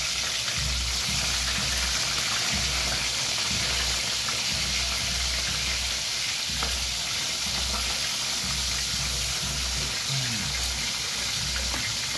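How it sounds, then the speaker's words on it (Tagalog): Galunggong fish frying in a pan give a steady, dense sizzle with crackling spatters that runs unbroken throughout, and a low rumbling hum sits underneath. "magprito na tayo ng isda, galunggong"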